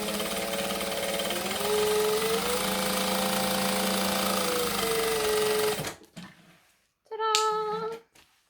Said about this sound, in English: flip it over, and top stitch the crease.